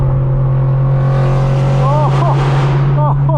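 A straight-piped BMW M4 F82 drones steadily while driving on the road, a loud constant low engine hum inside the car, with faint chirping squeals near the end.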